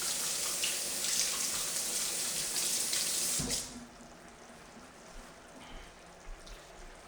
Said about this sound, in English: Let me just wash my hands for a second.